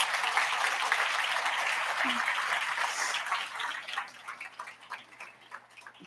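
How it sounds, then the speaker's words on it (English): Audience applause at a World Food Day event as a university speaker comes to the stage: broad steady clapping from a sizeable crowd that thins out and tails off over the last couple of seconds. "Please give him a round of applause."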